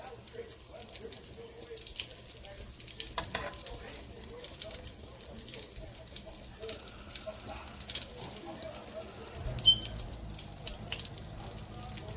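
Steady crackling sizzle of Guyanese-style cassava balls frying in oil, with scattered pops and a faint background hum throughout.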